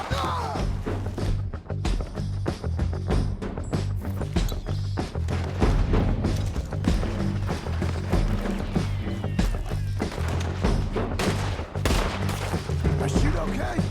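Gunfire in a Red Dead Redemption shootout: dense, continuous volleys of shots with a steady low rumble of game music or hooves beneath, loud and busy throughout with no pauses.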